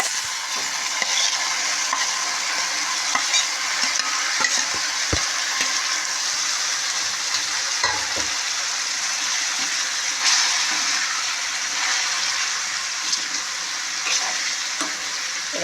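Mushrooms stir-fried with tomato in a pan give a loud, continuous close sizzle with scattered scraping stirs and a couple of dull knocks, no speech.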